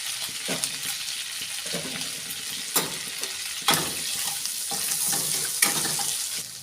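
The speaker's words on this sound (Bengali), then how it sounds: "যে তেলটা আছে ওই তেলটার মধ্যেই আমি দুটো তেজপাতা ফোড়নে দিলাম, শুকনো লঙ্কা দিলাম, পাঁচ ফোড়ন দিয়ে দিলাম।" Bay leaves, dried chili and five-spice seeds hit hot oil in a pan, a bright crackling sizzle with sharp pops and spurts, close and loud.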